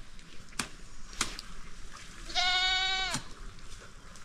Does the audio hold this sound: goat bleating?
yes